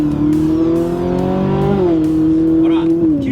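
Loud Ferrari exhaust with the valved muffler opened, a strong steady engine tone that rises, dips and rises again across a few seconds, with voices talking over it.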